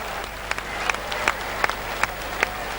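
An arena crowd applauds a judo throw at the 1995 World Championships, a steady, moderate wash of clapping with a few sharper claps standing out in a loose rhythm.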